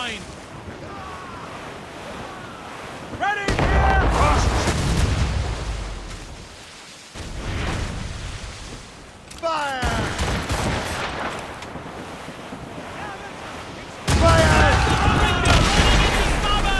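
Cannons fire from sailing ships during a naval battle in Assassin's Creed Rogue, with heavy broadside blasts breaking in bursts over constant wind and ocean surf while a voice shouts commands.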